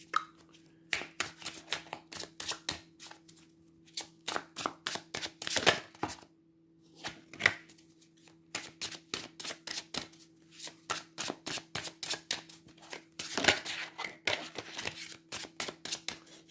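Playing cards shuffled by hand in repeated riffling bursts of crisp rapid clicks, close and fairly quiet, with short pauses between rounds and no talk.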